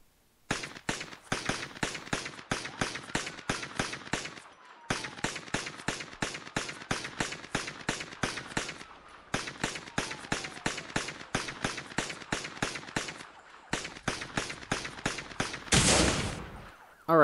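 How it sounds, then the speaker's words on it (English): Rapid bursts of video game gunfire hammer a fire truck in MadOut2, loud and sustained with brief pauses between volleys, ending in a dense blast-like roar. "let's start firing at the vehicle and see how long it lasts"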